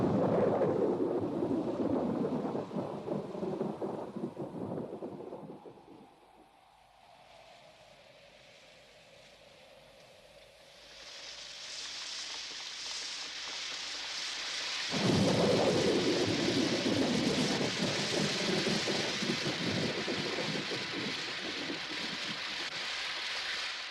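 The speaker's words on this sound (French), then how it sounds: "Il doit déjà pleuvoir sur l'autre rive." Heavy rain pours down in a thunderstorm, with deep rolling thunder. The downpour eases for a few seconds into a low rumble, then returns loud and hissing.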